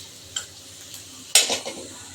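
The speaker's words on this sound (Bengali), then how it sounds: "এখানে আমার আলু ভাজাটা প্রায় হয়ে আসছে।" Fried potatoes being stirred in a pan, with a quiet background sizzle broken by a few sharp clicks of a utensil scraping the pan, the loudest coming near the end.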